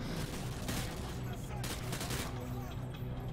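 Dense, continuous gunfire from the Call of Duty Modern Warfare 2 Spec Ops co-op mode, rapid overlapping shots and bursts filling the whole stretch at steady loudness, with players' voices partly buried beneath the shooting.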